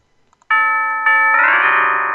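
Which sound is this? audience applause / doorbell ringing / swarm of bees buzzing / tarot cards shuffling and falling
doorbell ringing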